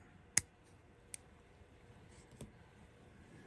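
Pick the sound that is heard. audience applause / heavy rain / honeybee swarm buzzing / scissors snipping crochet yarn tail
scissors snipping crochet yarn tail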